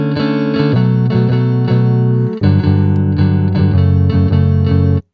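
Strummed electric guitar chords fed through a compressor pedal, loud and evenly sustained, with a brief gap partway before a fresh strum rings out and then stops abruptly.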